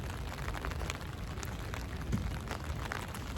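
Rain falling outdoors in Rome, a soft, steady patter and hiss with scattered individual drops ticking nearby, fairly quiet and unbroken by speech.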